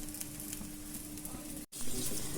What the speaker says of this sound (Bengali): যেটার ভিতরে পেঁয়াজ রসুন দেওয়া ছিল সেটা এখন আমি ভেজে নিচ্ছি